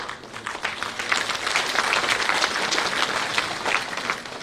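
Audience applause welcoming guests at a Shakti Vandan Abhiyan event, a dense, even patter of many hands clapping throughout, moderately loud and without speech.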